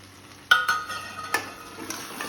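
Fenugreek curry with chili and salt frying in a pan, a soft sizzle under several sharp spoon clinks and scrapes against the metal as it is stirred, close and fairly quiet.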